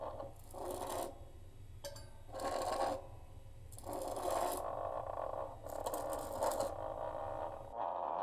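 A homemade horror instrument scraped against sandpaper glued along its bottom, giving rough, raspy strokes in about five separate bursts, close and fairly loud over a low steady hum.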